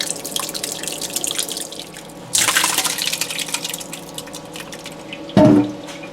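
Hot rendered lard draining into a stock pot, a thin trickling drip under a faint hum, with two brief louder pouring splashes partway through.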